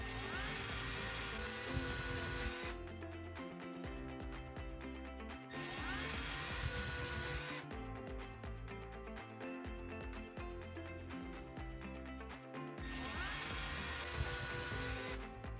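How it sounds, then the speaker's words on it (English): A power drill with a Phillips bit whirs in repeated bursts, pausing between runs as screws are driven in to mount a camera, steady and close with no voices. "using a drill with a Phillips drill bit, screw the camera in place"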